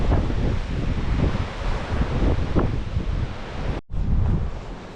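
Strong wind buffets the microphone on a seaside walk, a loud continuous roar with gusts and a surf-like wash beneath, briefly cutting out near the end before resuming.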